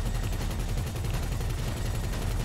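Rapid gunfire in the video game Grand Theft Auto Online, a dense continuous burst of shots with a steady rattling rhythm, fairly loud and sustained, with no talking over it.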